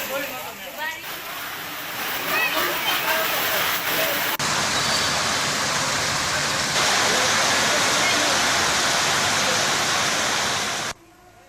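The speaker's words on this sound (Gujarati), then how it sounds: "વરસાદી પાણી પણ રસ્તા ઉપર વહેતા થયા હતા" Heavy monsoon rain with rainwater running over roads gives a dense, constant rushing wash that swells louder midway and stops abruptly at the end.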